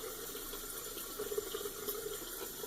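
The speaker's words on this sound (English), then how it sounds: "I'm going to just run it under water, get it wet, shake it out a little" A shaving brush is held under a running tap, giving a faint, steady hiss and gurgle of flowing water with slight splashy variations and no speech.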